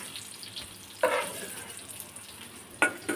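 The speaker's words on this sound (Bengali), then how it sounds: "এই যে এখন আমি তুলে নেব একটা একটা করে" Fried eggplant pieces are lifted one by one from hot oil, giving a low steady sizzle with two sharper splashy bursts as pieces come out.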